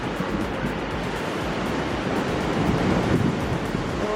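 Roaring surf and rushing seawater churn steadily as the tide surges into a rock well on the Oregon coast, loud and close, with wind buffeting the microphone throughout.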